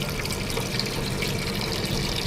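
Water is poured onto an air conditioner unit, a steady, close splashing hiss that runs unbroken for a couple of seconds with no talk.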